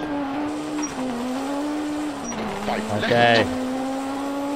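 Tire squeal and wheel spin from an MG car in a racing game, a sustained engine drone with a short sharp squeal near the end, and a brief spoken word over it.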